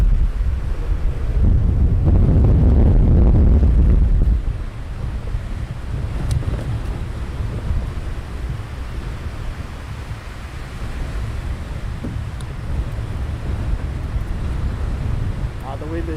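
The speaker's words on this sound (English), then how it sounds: "The wind is definitely picking up now." Strong wind buffeting the microphone at RAF Lakenheath airfield, a heavy roaring gust for the first few seconds that eases into a steady lower rush, with a voice speaking over it.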